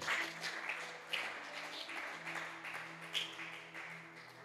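A church congregation applauding during a service, a soft, steady patter of clapping with a few sharper claps and a faint sustained musical tone beneath.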